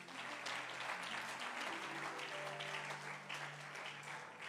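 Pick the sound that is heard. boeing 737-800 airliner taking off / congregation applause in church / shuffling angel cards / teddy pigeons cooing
congregation applause in church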